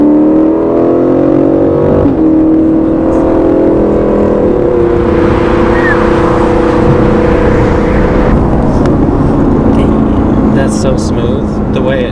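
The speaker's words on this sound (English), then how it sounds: "We gotta get onto some open road and open it up a little bit." Steady, loud engine drone of a car accelerating on an open road, the pitch climbing and then dropping at gear changes, with road and wind rumble underneath throughout.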